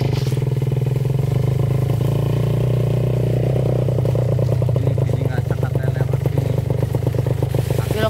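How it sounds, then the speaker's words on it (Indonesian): A Kawasaki Ninja R two-stroke motorcycle engine rides off-road on a rough trail, a loud, close, raspy buzz that climbs and revs with rapid popping pulses and clatter. "Mari kita hancurkan motor dua tak ini untuk trabas."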